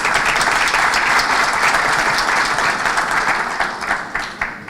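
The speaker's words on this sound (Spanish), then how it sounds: "Fuertes aplausos para nuestra panelista." Sustained audience applause at a national accreditation congress in Peru, greeting a panelist; dense, steady clapping from a large crowd that thins slightly toward the end.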